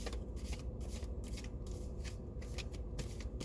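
Tarot cards are shuffled by hand in a continuous, close, soft riffling and flapping, with fast papery slaps repeating in uneven bursts throughout and no voices.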